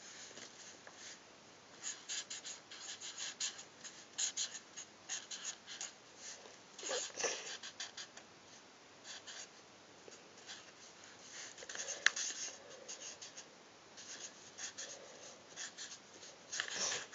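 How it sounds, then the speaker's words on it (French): Handwriting on paper, a quiet, close scratching of pen strokes in short irregular bursts with brief pauses, steady for the whole stretch without any talk. "Je vais vite écrire et c'est fini."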